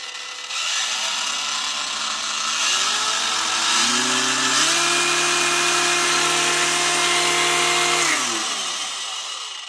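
A Parkside PWSA 20 Li-C3 cordless angle grinder with a 4 Ah battery runs on its lowest speed setting. The motor whine climbs in steps as it spins up, holds steady, then winds down, loud and close with no voices.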